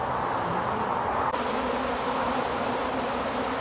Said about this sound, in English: so that all the flying bees come back to this position